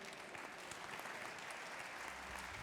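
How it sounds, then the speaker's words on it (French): An audience at a cooking competition event claps in a dense, continuous burst of applause, heard quietly and from some distance. "On vous applaudit bien sûr bien fort."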